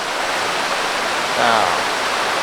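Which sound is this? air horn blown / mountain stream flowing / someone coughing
mountain stream flowing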